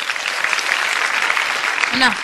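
Audience applause at a stage show of folk songs, a dense continuous patter of many hands clapping that holds steady throughout and rises slightly near the end.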